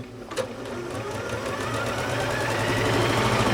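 An Elna eXcellence 730 Pro sewing machine stitching fast, a steady rapid mechanical whir and tapping that gradually grows louder, preceded by a brief click, with no speech.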